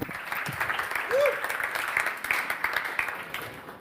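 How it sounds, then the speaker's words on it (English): Warm audience applause at a talk or panel event, a steady patter of many hands clapping with sustained crowd noise, following an introduction. "Please, a warm applause for Balázs."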